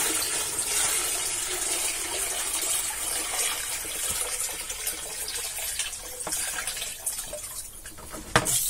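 Water pouring from a bucket in a homemade wood-heated shower setup, a steady splashing, hissing flow throughout with a small clatter near the end and no talking.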